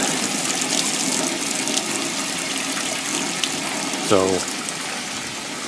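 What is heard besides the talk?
hot water running while cleaning an Axeman Anderson 130M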